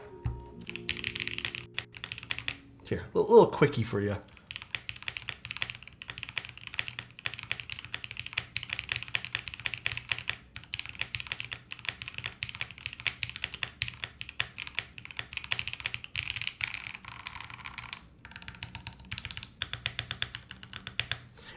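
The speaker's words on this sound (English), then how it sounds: "One quick typing test." Rapid typing on a Type B prototype mechanical keyboard, a steady dense clatter of deep keystrokes continuing for a long stretch, close and fairly quiet, with a brief spoken remark and a knock near the start.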